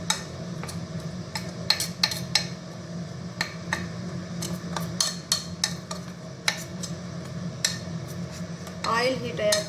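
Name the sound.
mixing gram flour pakoda batter in a bowl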